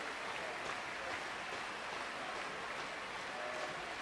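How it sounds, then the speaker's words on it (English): A large British crowd at the London 2012 Paralympic table tennis final applauds and roars after the match, dense continuous clapping and cheering heard from a distance, fairly faint and unbroken. "And the great British crowd, they're roaring in delight."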